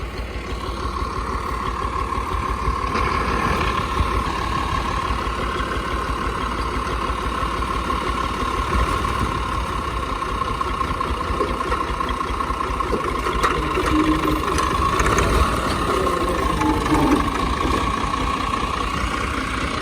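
A tractor engine with a faulty steering idles steadily and loudly throughout, a constant low rumble with a droning hum and no breaks.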